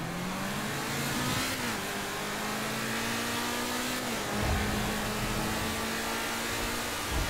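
A supercar's engine revs in Grand Theft Auto V, its pitch climbing and dropping through several gear-like surges, loud and steady throughout with no talking.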